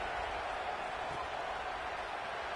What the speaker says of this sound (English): Night games are always so loud, so obnoxious, and these fans, they get something to cheer about